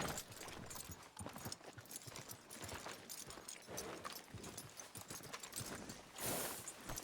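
Hooves clip-clop in a quick, steady rhythm, faint and continuous, with a brief rustle near the end.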